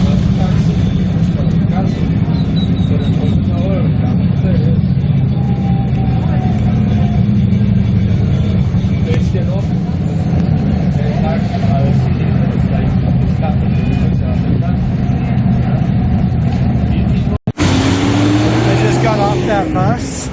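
A bus passes on a street in Escazú, San José, Costa Rica, its loud, steady low engine rumble filling the scene amid continuous traffic noise, with an abrupt shift in the sound near the end.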